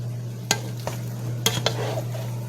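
Potato salad with carrots being gently folded in a bowl, a few soft spoon taps and scrapes over a steady low hum, close and quiet.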